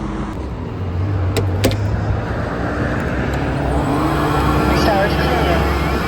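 A window-cleaning robot runs on a window with a steady motor drone and hum, loud and close, and a few clicks early on, with a person talking briefly.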